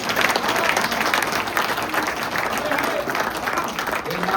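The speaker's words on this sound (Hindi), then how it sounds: "और एक बार तालियां" An audience at a Hindi poetry recital about the country's brave soldiers claps in a thick, continuous burst of applause that holds steady for the full few seconds.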